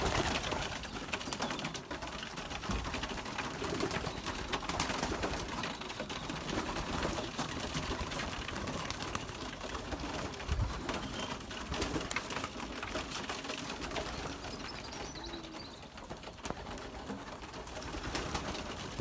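Young Belgian racing pigeons coo steadily inside a loft, soft overlapping calls running throughout against a dense, noisy background with no voices.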